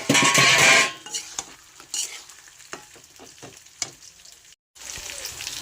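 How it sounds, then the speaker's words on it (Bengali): Cauliflower stems frying in a pan with raw mustard and mustard oil are stirred briskly, giving a loud sizzle and scraping at first, then quieter scattered clinks and stirring taps as the frying eases. "সর্ষে দিয়ে এটাকে আমি ভালো করে নেড়ে চাপা দিয়ে বন্ধ করে দেব"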